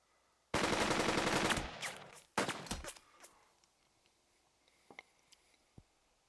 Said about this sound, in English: So let's shoot here.